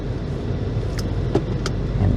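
A car pulling away on a driving lesson: a steady low engine hum from inside the cabin, with a couple of faint clicks and small knocks on top and no talk.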